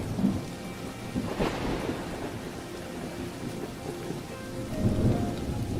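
Steady rain pours down with a low rumble of thunder underneath, dense and continuous throughout.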